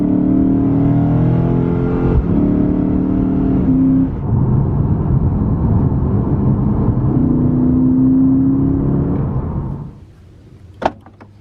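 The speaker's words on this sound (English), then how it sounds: "not only does the engine sound good at startup, but sounds even better on the highway." A Lexus RC F engine drones loudly on the highway, a steady deep rumble with shifting pitch as it accelerates, then fades abruptly to quiet with a couple of sharp clicks at the end.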